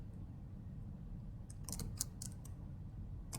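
Bursts of quiet clicking keystrokes on a computer keyboard as code is typed, a few quick clusters of taps over soft background hum.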